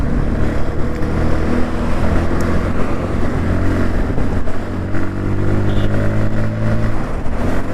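A Bajaj Pulsar P150 motorcycle, 2023 model, rides along with a steady engine drone and road rumble, holding a fairly constant pitch throughout.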